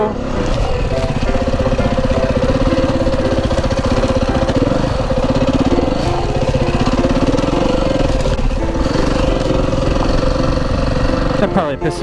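A dirt bike engine runs close and loud, a steady rough mid-pitched drone with slight swells, while voices talk over it.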